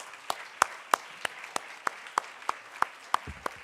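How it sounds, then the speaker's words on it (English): Sharp hand claps of applause at a Youth Day event, at a steady, even beat, about three per second, fairly close and distinct rather than a dense crowd roar. "Let's give them a round of applause."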